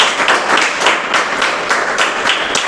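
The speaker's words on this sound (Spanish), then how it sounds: "Vamos a darle un fuerte aplauso al Señor" Loud, sustained applause from a church congregation, dense clapping filling the space steadily for a few seconds with no voices standing out.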